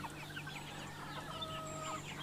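Mixed-age free-range village chickens, from young to a few months old, cluck and chatter in a flock, many overlapping soft calls close by over a steady low hum, no talk.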